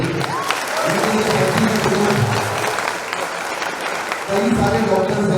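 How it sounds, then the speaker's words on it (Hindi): An audience at a multispeciality hospital event applauds loudly in a sustained burst, fades briefly, then swells again while someone speaks over the clapping. "सबसे पहले मैं कहना चाहूँगा कि डॉक्टर नाम जोशी और मासूमा मैम के लिए एक बार जोरदार तालियां"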